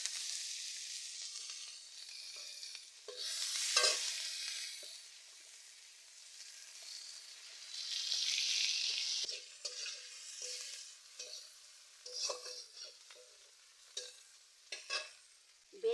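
Chopped onions hit hot oil with bay leaf and five-spice in a wok in a village kitchen, bringing loud hissing sizzle bursts that swell and fade, with scraping and clinking stirring sounds in between.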